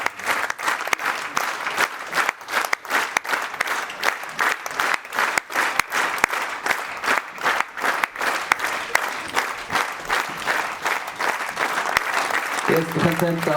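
Sustained warm applause from a concert audience fills the hall, dense steady clapping with crowd noise throughout, rising slightly toward the end as a voice begins over it.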